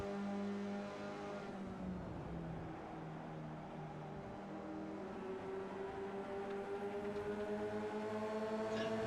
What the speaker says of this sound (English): all 168 horsepower, what is it, of that NC Miata? Spinning those poor little rear tires.